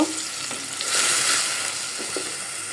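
Soaked dried fish (shutki) fries in a pan with green chillies, a loud, even sizzle close to the pan with a few soft stirring knocks.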